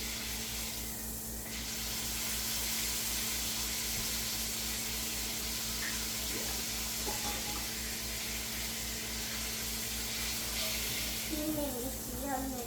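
Pork chops sear in a hot pan for glazed pork chops, giving a steady, loud, hissing sizzle as the fat renders. It runs unbroken throughout, with a faint hum underneath.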